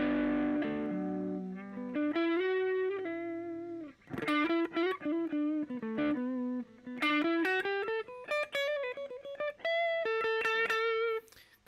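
Electric guitar through a Pirate King Mr Crazy Mod distortion pedal, playing a clear, sustained melodic lead line of bending, gliding notes with short gaps between phrases, alone without talk.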